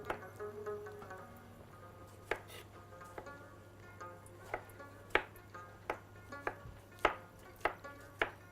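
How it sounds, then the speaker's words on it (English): A knife slices through two tomatoes on a board while haleem is being prepared, giving a steady series of crisp, close cutting taps with short pauses between strokes and a low hum underneath. "You're going to cut a slice in the tomatoes, 2 tomatoes."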